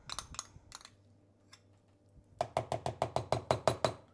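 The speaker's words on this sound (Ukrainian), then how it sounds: "Хтось стукає." Someone knocks in a home kitchen while a tuna salad is being made. A few scattered taps come first, then a quick, even run of about nine close knocks.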